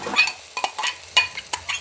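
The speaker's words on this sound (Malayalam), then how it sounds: "ഇനി ഇതിൻ്റെ ആ പച്ചച്ചവയൊക്കെ ഒന്ന് മാറുന്നവരെ നമ്മളിത് വഴറ്റണം കേട്ടോ" Tomato and cashew paste being stirred in a pan for chicken curry, heard as short scraping stir strokes with a light sizzle, several separate bursts spread across the moment, close and fairly quiet with no voices.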